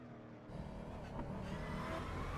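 A Mustang race car's engine revving on track at Magny Cours, a throaty rising drone that swells after a brief lull, heard alone at moderate distance.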